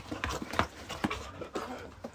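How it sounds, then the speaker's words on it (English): Heavy, rhythmic panting from a person on a treadmill, close and fairly loud, with breath bursts repeating about every half second and soft thumps underneath. "if you're listening and you hear a lot of panting right now"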